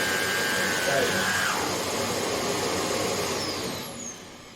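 A Hoover HL500PT vacuum cleaner runs steadily with its roller spinning, a loud continuous motor whir throughout that eases slightly near the end.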